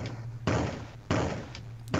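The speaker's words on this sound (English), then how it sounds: "it sounds like a traditional gunshot" A gunshot-like spaceship firing effect from a CoCo port of Pac-Man, three sharp, punchy bursts spaced roughly half a second apart, each decaying into a hissy tail at moderate, slightly muffled volume.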